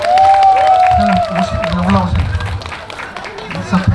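An audience at a Buddhist temple ceremony and entertainment show applauds to welcome the host, with clapping and crowd noise under a loud amplified voice and a brief tonal slide at the start.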